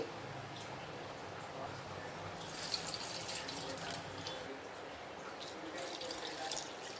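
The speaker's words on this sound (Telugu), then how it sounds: "చింతపండుని ఒకసారి శుభ్రంగా వాష్ చేసేసుకొని నీళ్ళల్లో నానబెట్టి పెట్టుకోవాలి" Tamarind is rinsed and set to soak in water in a home kitchen, giving a steady soft splashing and trickling of water that runs through the whole stretch at low level with no talk.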